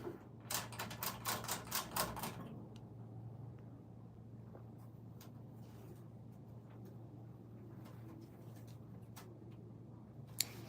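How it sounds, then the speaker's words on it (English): A Silver Reed knitting machine clatters through a quick burst of rapid mechanical clicks as pattern cards feed in, then settles into a quiet, low hum with faint occasional ticks. "Now we send the pattern cards into the card feeder."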